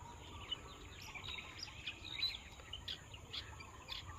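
A bird calls on a farm, its faint, high chirps repeating at irregular intervals over a soft, steady outdoor hiss with possible insect buzz, and no voices present.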